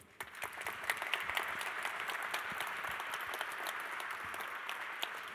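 Steady applause from an audience at a research-day event, fairly quiet and heard from some distance. Individual claps crackle through a continuous wash for several seconds.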